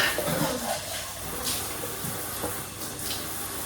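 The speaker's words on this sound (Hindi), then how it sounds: "वो होता है इन शेकर्स को धोना।" Protein shaker bottles washed under a running tap, a continuous splashing rush of water into a sink with brief clunks of plastic, loud and close, with no talking.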